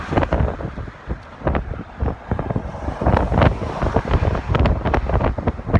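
Heavy wind buffeting an outdoor microphone during a roadside wait for a police funeral procession, loud rumbling gusts that surge and drop in bursts throughout.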